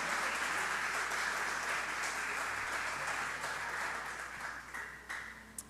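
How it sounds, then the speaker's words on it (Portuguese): A church congregation applauds together during a sermon, sustained clapping holding steady for most of the stretch, then thinning and fading toward the end with a few scattered claps. "Vamos aplaudir ao Senhor, aleluia."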